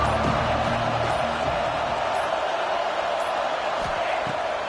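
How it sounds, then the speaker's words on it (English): A big college football crowd in Happy Valley roars on third down, a loud, continuous wash of stadium noise with steady intensity throughout. "Here comes the noise from this big crowd in Happy Valley on third down"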